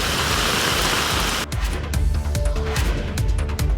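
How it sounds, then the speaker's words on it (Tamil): Heavy rain pours down during a cyclone in Tamil Nadu's Thiruvarur district, a dense, steady hiss that shifts partway through to a closer patter with distinct drops on surfaces. "மாவட்டத்தின் பல்வேறு இடங்களிலும் கனமழை பெய்தது."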